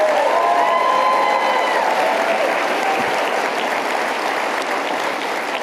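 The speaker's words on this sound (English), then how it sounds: "Big applause for Turning Point USA, please." A large crowd claps at a Turning Point USA event, with a loud, dense, sustained wash of applause and a few faint cheers and whistles near the start.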